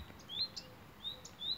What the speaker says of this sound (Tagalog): Kaya maingay ang ibon na yan pagka pumupunta kami dito sa bukid